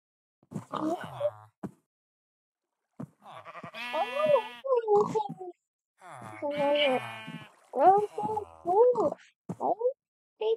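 Several drawn-out, wavering bleats from a Minecraft sheep come in bursts with short silences between, close and clear, like a sheep crying out repeatedly.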